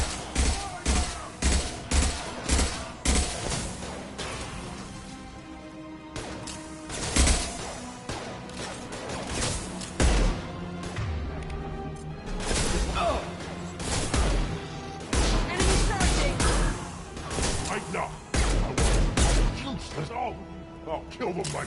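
A Mass Effect Legendary Edition firefight, with repeated bursts of gunfire and sharp impacts coming in irregular clusters, loud and close, mixed with speech throughout.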